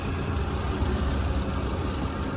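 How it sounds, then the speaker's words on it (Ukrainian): A Volkswagen Touran's 1.6 petrol engine idles steadily up close, a continuous low rumbling purr with no voices. "Двигун чуєте, як працює, як новенький."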